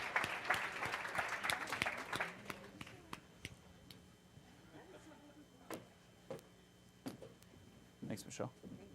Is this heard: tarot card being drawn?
no